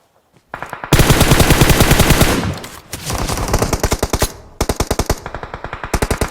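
Rapid automatic gunfire from a distant enemy in the PUBG Mobile battle game crackles in long, loud bursts, then after a brief pause returns as a steadier series of evenly spaced shots, with no talking over it.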